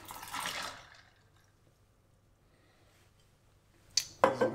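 Cocktail liquid pours straight onto pebble ice with no strainer, a short splashy burst at the start, then near silence before sharp crackling clinks of ice near the end.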